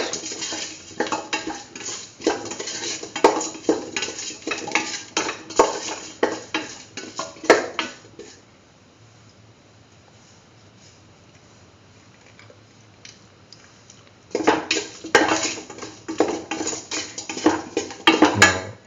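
A spoon works a beetroot and mung bean mixture in a bowl, with steady scraping and clinking strokes for several seconds, a long quiet stretch, then another burst of brisk mixing against the bowl.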